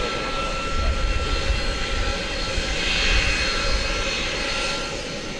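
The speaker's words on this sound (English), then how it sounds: "That whine you hear in the background is the UPS A300, which is now heading over to take off on runway 18 left" A UPS Airbus A300 taxiing toward runway 18 left at Dallas Fort Worth Airport at night, a steady distant jet-engine whine and low rumble that swells slightly in the middle, with no talk.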